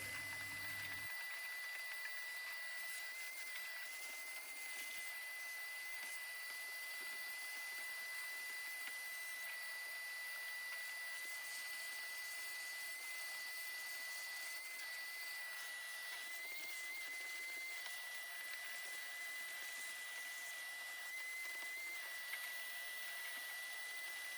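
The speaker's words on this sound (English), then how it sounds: "Vacuuming up those ants." Steady vacuum cleaner drone with a high whine, running continuously at close range while sucking ants and dirt from under the floor of a Toyota Hilux interior, without talk.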